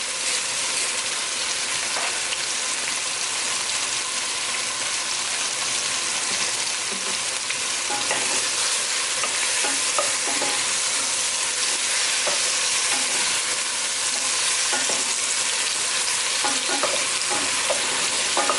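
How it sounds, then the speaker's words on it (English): Vegetables, including tomatoes, stir-frying in a pan for ratatouille give a steady, close sizzle with scattered scrapes and stirring taps, running evenly throughout with no voices. "So this is like a veggie stir fry."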